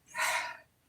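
A single short nasal blow of air, a soft breathy gust lasting about half a second, fairly quiet and close, with no talking over it.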